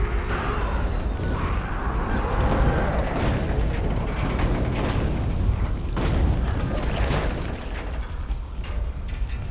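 Explosions from an exploder zombie in the video game Dying Light, loud booming bursts that repeat over a dense, continuous rumble of game noise.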